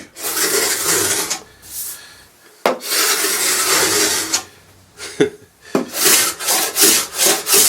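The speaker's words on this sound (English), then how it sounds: "It's coming off, but you can see how much scraping I'm going to have to do just for that." A hand scraper rasps paint off a 1950s Jentique wooden writing bureau in repeated close scraping strokes, separated by short pauses, with quicker rhythmic strokes toward the end.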